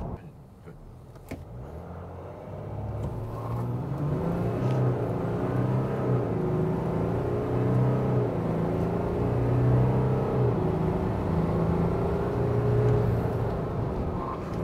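A Volkswagen Amarok W580S V6 ute accelerating hard from 0 to 100 on a wet day, the engine note climbing steadily through several gear changes, heard from inside the cabin with faint speech under it.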